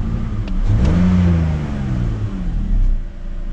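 A BMW 530i engine idles steadily after starting, a mid-pitched continuous hum with a slight swell in revs early on, close by and alone.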